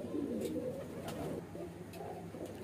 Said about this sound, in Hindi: ये आज की वीडियो का आखिरी कबूतर यानी मादिन है